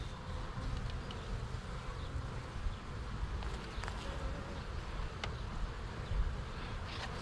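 A dense, steady buzzing of many honeybees being installed into a hive around their queen, close by and continuous, with a low rumbling hum underneath.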